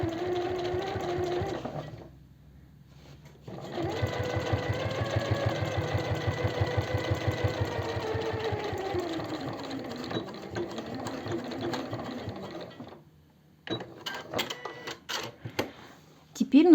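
Sewing machine stitching men's jeans fabric in a rapid, rhythmic run of needle strokes lasting several seconds, with short bursts and pauses around it and brief clicking handling noises at the end.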